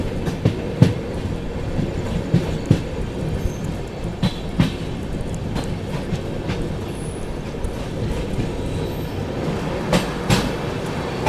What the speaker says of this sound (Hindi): चंडीगढ़ एक्सप्रेस को हम लोग यहाँ पर ओवरटेक कर रहे हैं दोस्तों, चंडीगढ़ लखनऊ एक्सप्रेस को।